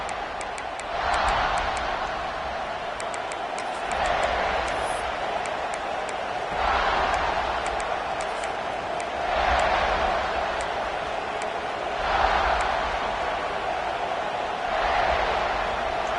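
Football stadium crowd at a South Carolina Gamecocks versus Texas game, a broad steady roar that swells in waves every few seconds, with a commentator talking over it.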